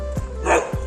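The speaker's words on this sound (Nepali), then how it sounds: "यहाँ चाहिँ अब कुकुरले भुक्नु लाग्यो यहाँ" A tethered dog barks twice in quick succession, close and fairly loud, with nothing else going on.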